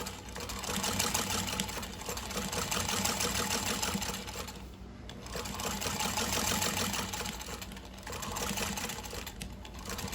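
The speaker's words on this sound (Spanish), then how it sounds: "bajo el prensatela, acomodo bien el bolsillo y vamos a dar la próxima costura, la última costura." A sewing machine stitches a pocket seam in a sewing workshop, running in fast even bursts with a brief stop near the middle and another toward the end, close and clear with no talking.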